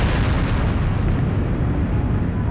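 A Fist of Grendel attack in the video game Skies of Arcadia detonates in a sustained, loud, rumbling explosion that roars continuously with no break or speech.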